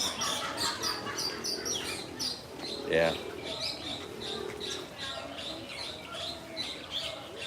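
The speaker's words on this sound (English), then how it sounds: "So it's hearing the birds, but it's just not recognizing them because they're not native to the" Birds calling at Disney's Animal Kingdom, scattered chirps and coos in the open air beneath nearby conversation, with a person speaking briefly.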